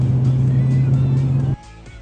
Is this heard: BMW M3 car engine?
yes